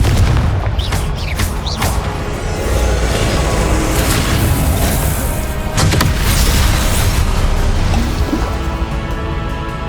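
Confringo blasting spell in the video game Hogwarts Legacy, booming fiery explosions with crackling bursts and whooshes layered over continuous game ambience, loud and dense throughout.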